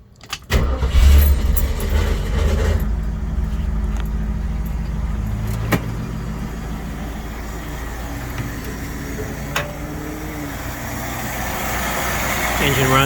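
The engine of a 1967 Mustang Fastback with a new fuel pump cranks and catches, revs briefly, then settles into a steady rumbling idle close by.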